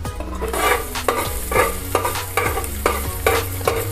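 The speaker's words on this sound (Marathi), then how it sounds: "जरासा फोडणीपुरता थोडासा बारीक चिरलेला कांदा टाकला तरी चालेल" Finely chopped onion frying in a tempering of hot oil: a steady close sizzle broken by rhythmic scraping stir strokes roughly every half second, with no voices.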